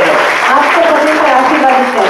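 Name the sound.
congregation applauding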